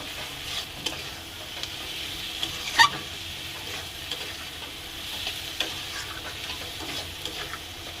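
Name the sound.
spice paste (masala) being fried in a pan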